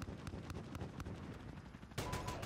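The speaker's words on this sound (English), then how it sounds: "here comes gun run. Guns, guns, guns. Still firing, still firing." A 30mm aircraft cannon fires a gun run in the Modern Warfare video game, heard as a dense, rumbling roar with repeated sharp cracks, growing louder and brighter toward the end.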